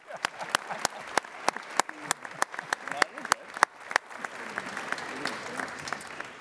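An audience at a special announcement event at Queen's business school gives a round of applause, crisp individual claps at first that thicken into denser, steady clapping from a large crowd.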